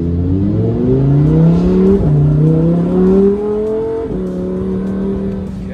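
2022 Lamborghini Huracan Evo RWD driving on the street, its engine loud and close, rising in pitch through the gears with shifts and revving, then dropping back to a lower steady drone.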